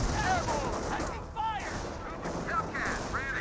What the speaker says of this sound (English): Hellcat's firing away against something.